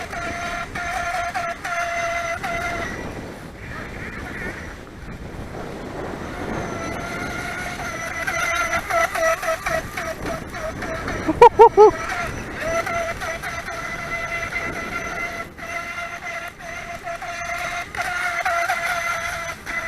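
A FeiLun FT012 RC brushless racing boat runs at full throttle, a steady high-pitched motor whine holding throughout over water and wind noise, with a few sharp bursts near the middle and voices faintly in the background.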